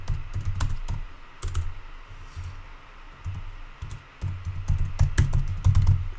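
Typing on a computer keyboard while entering capital-letter text in Photoshop, heard as close, uneven bursts of key clicks with short pauses between them, no voices.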